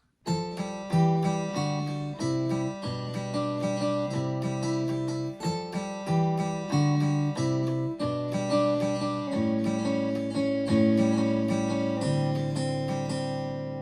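Guitar melody of plucked notes over low chords from the chorus of a song, played steadily and clearly with no one talking.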